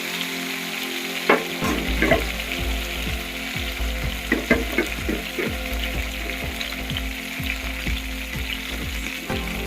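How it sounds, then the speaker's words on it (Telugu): Cut eggplant pieces frying in hot oil in a pan, a dense continuous sizzle with repeated scraping stir strokes and crackles, close up and fairly loud, with no voices over it. "దీంట్లోనే మనం వంకాయలు వేసుకోవాలి మనం కట్ చేసి పెట్టుకున్న వంకాయలు"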